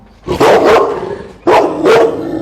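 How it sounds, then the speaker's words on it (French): A dog barks aggressively in two loud double bursts, close to the listener, with a short pause between the pairs and no talking. "je rentre vers le chien qui m'agresse beaucoup plus"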